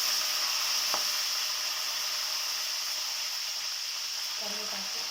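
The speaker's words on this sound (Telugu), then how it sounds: "సాజీరా, లవంగం, నల్ల మిరియాలు, దాల్చిని వేస్తున్నానండి నూనెలో" Cumin, cloves, black pepper and cinnamon sizzle in hot oil for tomato rice, a constant bright hiss with one brief utensil tap and no talking.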